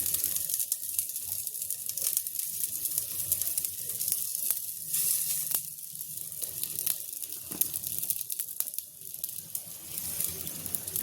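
Litti frying in hot oil, a soft continuous sizzle with occasional crackles and pops, fairly quiet and close, no talking.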